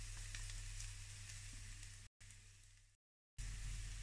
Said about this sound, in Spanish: Ya en la placa con un hilo de aceite. Para comenzar a sofreír los ajos.